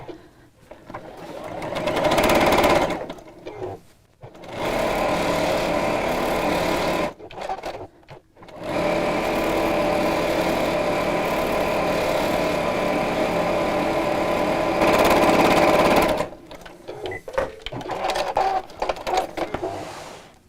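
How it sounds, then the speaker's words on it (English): A sewing machine stitches free motion embroidery on a festive zipped pouch, running in steady whirring bursts of about two to eight seconds with short pauses between them, close and fairly loud. "So that's all my embroidery finished."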